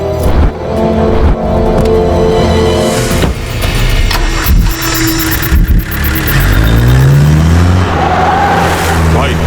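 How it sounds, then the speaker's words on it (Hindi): A car engine revs and pulls away from a house amid loud, dense film soundtrack with overlapping voices and music, the motor noise rising and shifting through the mix. "वीर सिंह की गाड़ी घर से निकल गई"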